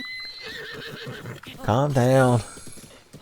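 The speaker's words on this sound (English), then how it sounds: "I found a random horse and I'm riding on it" A wild horse being ridden in Breath of the Wild gives off soft rhythmic hoof clops, then a loud, close whinny. A person talks over the hooves.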